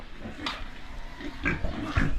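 Newly arrived pigs grunt in short, low snorts spaced about half a second apart, fairly close but soft, over a quiet farm background with no talking.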